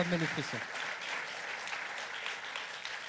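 A short voice at the start, then a sustained wash of audience applause at a comedy show, steady and moderately loud throughout.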